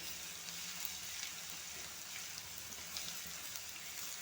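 Crushed ginger-garlic paste sizzles in hot oil for a Kerala mackerel chili curry, a steady, soft, even frying hiss that runs unbroken throughout with no voices.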